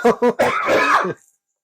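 A couple of short, close coughs followed by a strained, throaty vocal sound as the throat clears, then silence.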